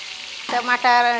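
Tomatoes dropped into hot oil already frying whole spices give a loud, close sizzle that bursts up sharply and keeps crackling in a home kitchen, with a brief voice over it.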